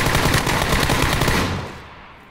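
Sustained rapid automatic gunfire from the tactical shooter game Rainbow Six Siege, loud and dense for about a second and a half before tailing off abruptly.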